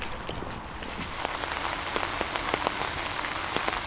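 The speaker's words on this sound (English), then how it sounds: "But I'm afraid, Matt, that rain is really starting to come in" Heavy rain shower pouring down on a golf course at Foxhills, Surrey, a steady dense hiss of drops with scattered sharper patters, close and continuous with no talk.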